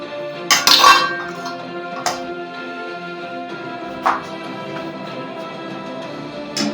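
A perforated metal plate, brushed with white oil, clinks sharply as it is set down in a home kitchen steamer, with one bright clatter followed by a couple of fainter knocks against a steady low background hum.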